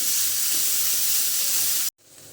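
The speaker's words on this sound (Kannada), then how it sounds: "ಸ್ವಲ್ಪ ಈರುಳ್ಳಿ ಟ್ರಾನ್ಸ್ಪರೆಂಟ್ ಆಗಬೇಕು ಅಷ್ಟರವರೆಗೂ ಚೆನ್ನಾಗಿ ಬಾಡಿಸೋಣ" Chopped onions sauté in a hot pan for an Andhra-style leafy greens dal, giving a steady, dense sizzle that stops abruptly near the end and leaves only faint quiet background.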